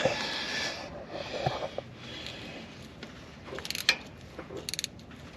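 A wrench working a loose hose clamp on a tractor gives a series of close ratcheting clicks and metallic scrapes, irregular and bunched in short bursts near the end, over a soft background rustle.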